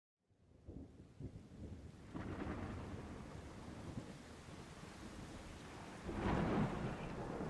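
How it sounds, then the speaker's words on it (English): Thunderstorm with steady heavy rain and a low rolling rumble of thunder that swells into a louder crack near the end, broad and enveloping, with no voices. "a sudden crack of thunder jolts you awake"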